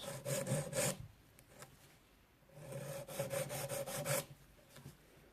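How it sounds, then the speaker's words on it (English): A nail file rasps across a fingernail in two bursts of quick back-and-forth strokes, faint and close, separated by a short pause. "to file it like this. You see, it's flattening."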